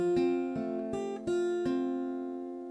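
Acoustic guitar playing the F section of the intro to a song: about five plucked chords with sustained ringing strings, close and clear, with no talk.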